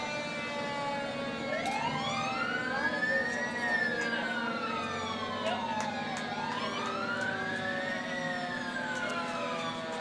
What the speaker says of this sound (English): Engine number 3 is rolling through here at Ralston today with us.